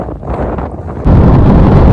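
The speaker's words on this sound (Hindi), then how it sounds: "भाई बहुत तो हवा चल रही है" Strong wind buffets the microphone near the sea on the Kutch coast by the Pakistan border, a constant loud rumble that jumps to heavier, continuous gusting halfway through, with no voices.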